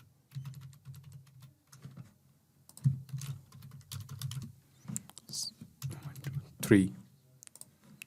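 Computer keyboard typing runs as rapid, uneven clusters of close key clicks with a few louder taps, while someone speaks quietly underneath.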